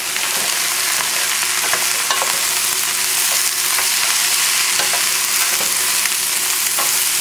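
Chopped vegetables for a vegan potato, white bean and cabbage soup, including cabbage, carrots, celery and onions, sweating in a pot with a steady, close sizzle and a few faint ticks from stirring.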